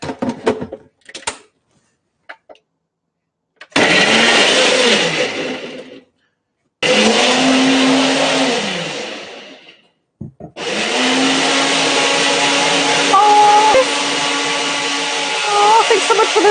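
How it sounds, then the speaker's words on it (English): Kitchen blender whirring through frozen strawberries for a frozen drink, loud close bursts of motor roar in several pulses with short pauses between them and a few clicks before the first run. "I'm like blending something"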